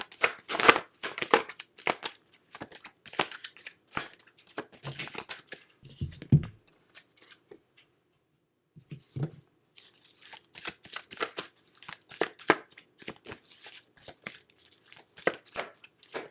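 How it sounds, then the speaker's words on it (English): Oracle cards being shuffled and drawn by hand, a run of quick, crisp riffles and papery slaps in uneven bursts, close and fairly quiet, with a short pause partway through and a few soft thumps. "I'm going to pull some oracle cards here for you as well"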